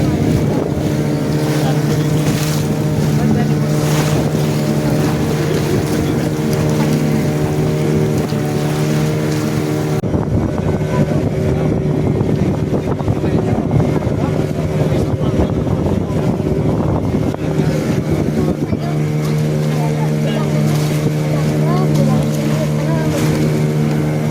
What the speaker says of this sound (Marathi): लाकडी बोटीने समुद्रातील खडकांमधून मार्ग काढत आम्ही किल्ल्याच्या दिशेने निघालो